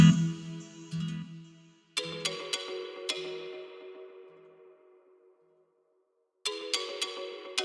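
A concert mallet virtual instrument in FL Studio plays a bright, bell-like plucked melody with struck notes ringing out and decaying, a pause, then more notes, heard alone.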